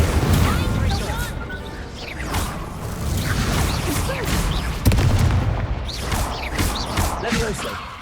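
Incendio fire spell cast in the Hogwarts Legacy video game, amid loud, dense combat effects: repeated whooshing bursts and booming impacts layered over one another, with a voice talking throughout.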